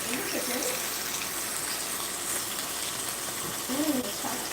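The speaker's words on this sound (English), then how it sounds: "I'm going to wash my hands again." Water runs steadily from a kitchen tap during a hand wash between cooking steps, a continuous broadband hiss at moderate level with faint background voices.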